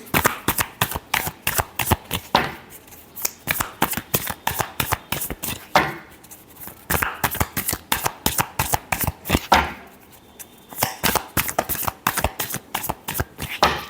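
Tarot cards shuffled by hand at close range, a loud, rapid riffling and flicking that repeats in quick bursts with short breaks, without any speech.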